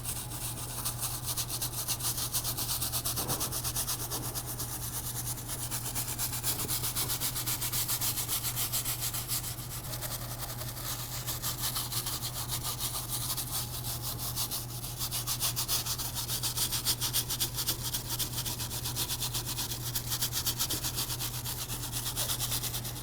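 A brush steadily scrubs cleaner into a tire on a Buick Grand National, making a continuous close, rough rubbing sound with no talking.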